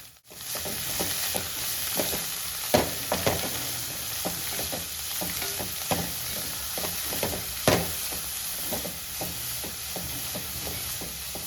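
Chopped spinach leaves stir-fried in a pan for a Kerala-style thoran, a steady sizzle broken by repeated scraping and tapping of a spatula against the pan, with no talking.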